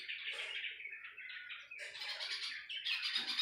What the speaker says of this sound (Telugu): ఇదిగో ఇక్కడ తారు మీద 4 బర్డ్స్ ఉన్నాయి. చూడండి సౌండ్ ఎట్లా చేస్తున్నాయా.